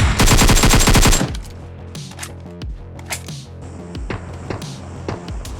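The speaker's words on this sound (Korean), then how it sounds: "총소리?" A long burst of rapid automatic gunfire, loud and close, then scattered single shots and clanks in a busy game soundscape.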